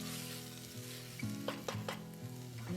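Tomatoes with ginger garlic paste and salt cook in a pan with a continuous soft sizzle, a low hum beneath it and a few quick stirring clicks.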